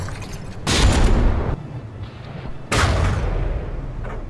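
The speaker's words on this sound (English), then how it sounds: "that secondary gun hit pretty hard there" Cannon fire and shell impacts between a frigate and another warship in From The Depths, two heavy booming blasts with crackling decay separated by about two seconds of quieter rumbling, loud and close.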